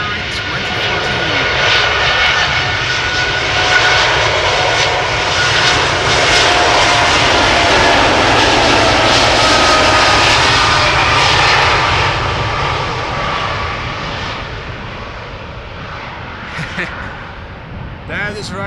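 A ten-year-old United Airlines Boeing 787-8 departs Amsterdam Schiphol on a flight to Washington, its jet engine roar swelling loud and close before easing away, with talk faintly over it.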